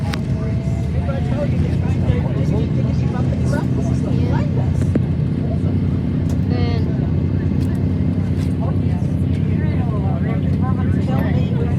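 A DC-3 propeller aircraft's right engine starts, rumbling and roaring steadily at close range, with scattered clicks and a voice speaking intermittently over it.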